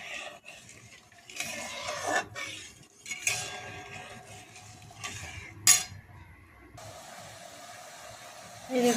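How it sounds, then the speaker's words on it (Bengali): A spoon scrapes and clinks in a pan of sugar syrup cooked with cardamom, soft intermittent stirring strokes with a faint hiss, close and quiet. "এই চিনির শিরাটা তৈরি করে নেব।"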